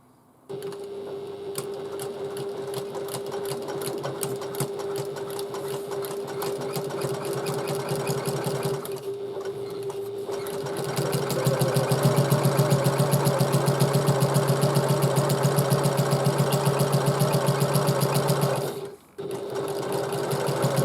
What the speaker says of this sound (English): we're going to stitch down here at 3/8 of an inch seam allowance